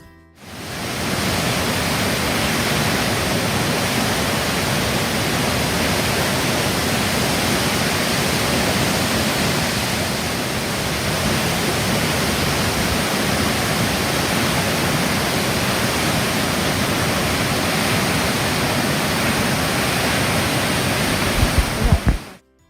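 A waterfall near a cafe roars in a steady, loud, unbroken rush of falling water, close up, with no voices.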